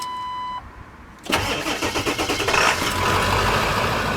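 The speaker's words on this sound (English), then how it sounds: "Truck starts right up." A Ford F250 snow plow truck cranks with a quick rhythmic starter whir, catches and settles into a loud, steady idle.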